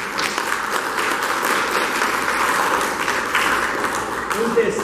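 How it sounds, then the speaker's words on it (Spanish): A congregation at Mass applauds the singing sisters with steady, dense clapping that continues evenly for several seconds, with a faint murmur of voices underneath. "Un aplauso para ellas."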